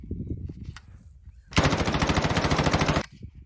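Rapid automatic rifle fire from a video game weapon, a dense, loud burst lasting about a second and a half, preceded and followed by someone talking.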